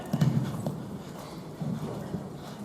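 A horse cantering in an arena during a riding masterclass, with soft rhythmic hoof clip-clop that comes in two brief bursts, moderately near, over a quiet background.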